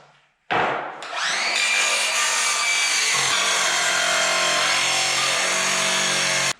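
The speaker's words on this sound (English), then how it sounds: "I'm just going to use this scrap that I have laying around of 3/4 inch, cut it down to a few strips" A power saw rips 3/4 inch scrap wood into strips, starting abruptly after a brief spin-up and cutting loud and steady, close by, with no talking.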